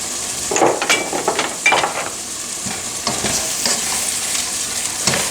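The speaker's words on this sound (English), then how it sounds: "Once my butter gets melted, I add in a little bit of fresh garlic." Fresh garlic sizzles in melted butter in a pan with a steady crackling fry, interrupted by a few scraping stirs early on, close and fairly loud throughout.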